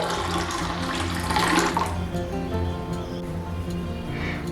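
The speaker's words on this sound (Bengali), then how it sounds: "তরমুজের যে জুসটি রেডি করে রেখেছি তার মধ্যে দিয়ে দিচ্ছি আরো কিছুটা জল।" Water is poured into watermelon juice as a close, continuous splashing stream that swells in the middle and settles into a softer trickle, with no one speaking.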